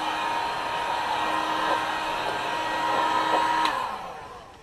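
A heat tool blows hot air to warm and stick down a wrap, giving a steady, loud whooshing whine that holds for a few seconds and then tails off as it is switched away.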